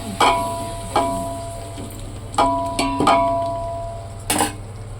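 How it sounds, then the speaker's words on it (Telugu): Pulao being stirred in a large pot after coriander is added, with several sharp metallic clangs of a spoon against the pot spaced a second or so apart over a low background hum. "కొత్తిమీర వేసుకోవాలి బాగా కలుపుకోవాలి"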